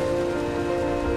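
Rain beats on the ground during a storm in the Farming Simulator 25 game. The hiss of drops is dense and steady over a faint low rumble, and no voices are heard.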